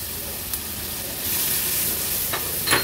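Chopped onion fries in oil with mustard seeds and cumin over a low flame, giving a steady, fairly close sizzle with a few sharper crackles and stirring scrapes near the end.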